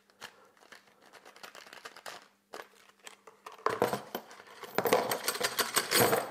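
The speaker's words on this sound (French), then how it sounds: "Allez, on va tout déballer." Cardboard box and packaging being opened to unpack a VONROC cordless SDS rotary hammer drill, with scattered close crinkles, taps and rustles building into louder continuous rustling toward the end.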